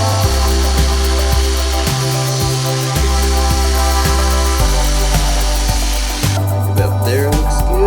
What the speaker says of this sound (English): So I'll cut that, and I'll just use my jigsaw again